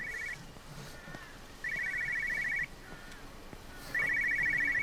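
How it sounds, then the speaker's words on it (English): A phone rings in repeated electronic bursts in the video game Everybody's Gone to the Rapture, each about a second long with pauses between, the ringing growing louder over a quiet ambient background. "I found the phone, it got louder when we went around here."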